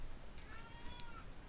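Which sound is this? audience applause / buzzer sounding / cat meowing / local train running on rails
cat meowing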